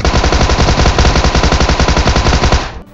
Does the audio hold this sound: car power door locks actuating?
no